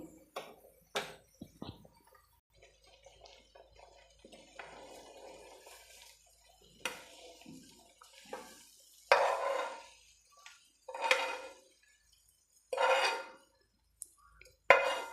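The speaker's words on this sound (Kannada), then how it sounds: "ನಾನು ಸ್ಟವ್ ಆಫ್ ಮಾಡಿ ಸರ್ವಿಂಗ್ ಪ್ಲೇಟಲ್ಲಿ ತೊಗೊತೀನಿ" Egg pepper curry-leaf fry is spooned from a pan onto a serving plate after the stove is switched off, producing close, intermittent scrapes and metallic clinks separated by quiet gaps.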